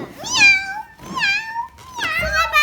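A person imitates a cat, giving three drawn-out meows in a row, close and clear.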